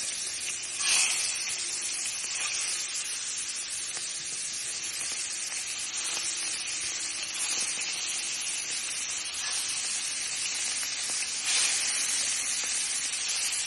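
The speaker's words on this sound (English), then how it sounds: "It's good old olive oil. Make sure it's hot. We're going to add our shrimp in." Shrimp frying in hot olive oil in a pan, a steady soft sizzle and hiss throughout with a few brief louder spits and crackles.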